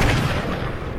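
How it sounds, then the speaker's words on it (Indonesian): A single sniper rifle shot from the war film Black Crab, set in a snowy wartime landscape, lands as one loud booming blast that rolls out into a sustained rumble. "Sebagai penembak jitu, Granpik di sini akan memberi paham lawannya bagaimana cara yang baik dan benar dalam menembak cukup satu tembakan aja"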